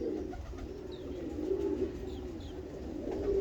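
A female pigeon coos in a steady low murmur that rolls on for several seconds, close and moderate in volume over a constant background hum, with a few faint higher chirps.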